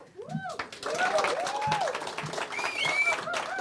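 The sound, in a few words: audience applause for debate candidates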